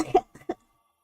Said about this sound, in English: I'm getting a real bad cough